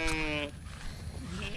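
Sheep bleat loudly and close by at a livestock alleyway, one strong bleat at the start followed by fainter answering calls from the flock.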